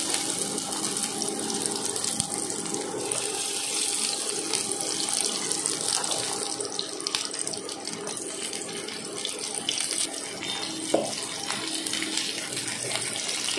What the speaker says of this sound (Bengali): পেঁয়াজটাকে একটু ভেজে নিই।